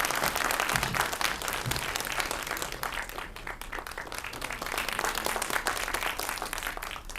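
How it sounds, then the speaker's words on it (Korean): Warm applause from an audience at a business association general meeting and seminar, welcoming a guest speaker with a steady, dense wash of clapping that holds for several seconds. "뜨거운 박수로 환영해 주십시오"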